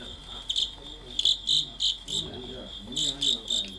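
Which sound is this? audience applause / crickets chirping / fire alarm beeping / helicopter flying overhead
crickets chirping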